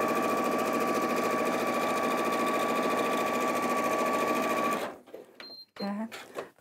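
An Elna 780+ sewing machine stitches three lines across layered fabric: a loud, steady motor whir with a fast needle rhythm that runs continuously, then stops near the end as a voice begins speaking.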